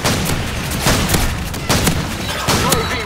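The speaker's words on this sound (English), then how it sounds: "Friendly airstrike on the way!" Rapid bursts of video game airstrike explosions and gunfire, loud and dense, booming in quick succession with sharp cracks across the whole stretch.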